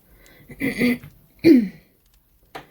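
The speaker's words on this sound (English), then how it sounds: "Sorry that I keep clearing my throat." A person clears their throat twice in short, rough bursts, close and fairly quiet, with a faint third catch afterward and silence between.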